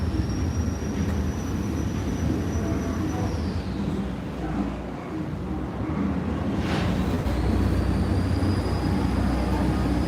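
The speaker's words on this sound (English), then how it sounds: "Not quite so much wind, just a lot of boat noise." Boat noise on a ride down Main Street at Magic Kingdom, a continuous loud engine rumble and churning drone with a rising whine, steady throughout and without talk.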